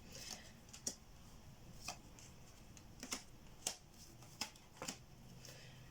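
Tarot cards are shuffled by hand in short, crisp bursts, about eight quick riffling snaps spaced irregularly over several seconds, quiet and close with no talking.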